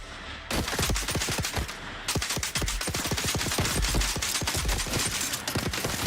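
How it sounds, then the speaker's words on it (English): Gunfire from shooting in the survival game Dune: Awakening comes as rapid bursts of sharp, close shots in quick succession. A brief pause breaks it, then the bursts resume, loud and steady. "I'm so not good at shooting."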